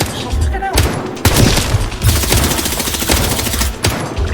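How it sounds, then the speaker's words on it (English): Rapid nail gun shots fire in a video game, a dense barrage of sharp cracks and thuds with several loud bursts, busy and continuous throughout. "he just one-shots them with a nail gun"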